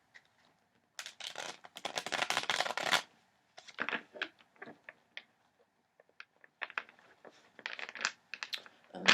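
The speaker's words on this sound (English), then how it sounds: "let's shuffle the Divine Masculine cards" Tarot deck being shuffled by hand: bursts of riffled, slapping card noise, a dense run early then shorter irregular flurries, close and fairly loud with no talking.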